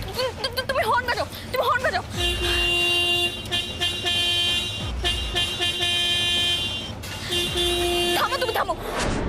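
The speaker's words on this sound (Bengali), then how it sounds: "তুমি হর্ন বাজাও" Loud sustained car horn blasts, two or three long honks with brief gaps, sounding close by over shouting voices and background commotion.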